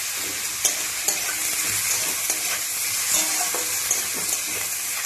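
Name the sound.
stir-frying carrots, beans, potatoes and radish in pan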